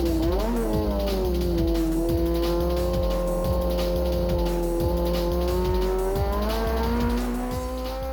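Racing cars including a Nissan GTR, engines screaming at high revs with a steady pitch and rapid gear-change pulses, loud and close throughout with no talk.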